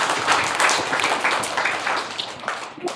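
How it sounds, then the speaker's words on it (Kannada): A school audience at an Eid Milad un Nabi event claps for Hussain sir. The applause is a dense, steady patter of many hands, fairly close and sustained, fading slightly near the end. "ಎಲ್ಲರೂ ಚಪ್ಪಾಳೆ ಹೊಡೀರಿ."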